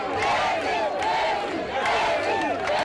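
A festive crowd cheers and shouts in ovation for Professor Alpha Condé during an honour lap at a political tour stop in Pita, Guinea, a dense, sustained roar of many voices with whistles, steady and loud throughout.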